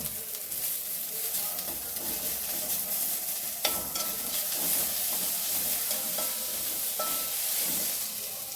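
Onion with crushed ginger and garlic sautés in a pan for a leftover chapati dish, a constant close hiss broken by scattered clicks and scrapes from stirring, with no voices.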